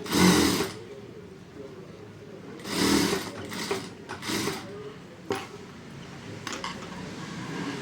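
A sewing machine stitches a prince-cut blouse in several short, close bursts of rapid whirring, separated by quiet pauses, with no voices.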